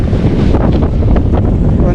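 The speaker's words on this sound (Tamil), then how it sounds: "அப்பா அலை எப்படி அடிக்குது, அலை அடிக்குது, அலை அடிக்குது, செம்மையாக அடிக்குது." Sea waves crash and slosh around a speedboat off a coral island, mixed with heavy wind buffeting the microphone, loud and continuous throughout.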